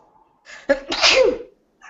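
A single sharp sneeze from a person indoors, a brief intake of breath followed by a loud burst, then quiet.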